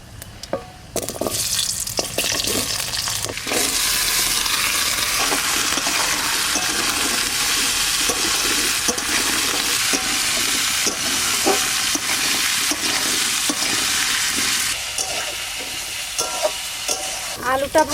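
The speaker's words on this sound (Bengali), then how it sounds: "আলুটা ভাজা ভাজা করে নিয়েছি" Potatoes frying in a pan with panch phoron and dried red chillies for Bengali aloo posto, a steady loud sizzle with repeated scraping and stirring clinks of a spatula, no voices.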